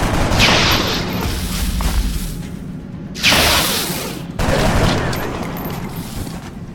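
Gunfire from the XCOM strategy game comes as loud, close bursts of sustained shooting, with several distinct volleys separated by brief pauses and no talking.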